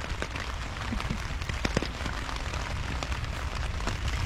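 Rain falling steadily on surfaces, a close, dense patter with scattered sharper drops.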